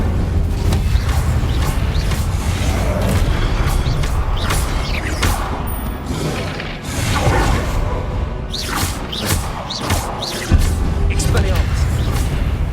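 Spell-casting effects from the Hogwarts Legacy video game during a boss fight, with repeated whooshing bursts and booming impacts layered over constant loud battle noise and music, with a voice calling out spell names.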